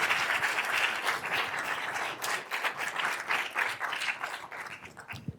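A lecture-hall audience claps steadily to welcome a speaker, a dense, even wash of applause that tapers off toward the end.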